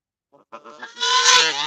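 Geese honk out on a rainy day, starting with a few short, close calls and building into a loud, continuous, raspy honk that carries on to the end.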